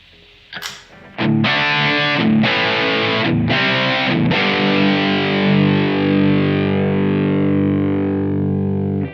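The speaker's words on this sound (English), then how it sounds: "So this is more of a kind of a modern overdrive sound" Electric guitar through a Blackstar Dept.10 Dual Drive pedal set to a modern overdrive tone, recorded direct: a few distorted strummed chords, then a long ringing chord fading out.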